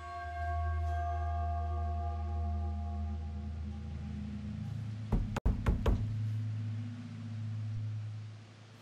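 Knocks on a door in a horror video game, a short close cluster of sharp raps midway through, set against a low steady hum and soft tonal ambience that continue on either side.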